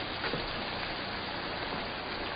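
Rain falls in a 1947 noir film scene as a faint, continuous even hiss with no distinct drops, steady throughout and without any talk.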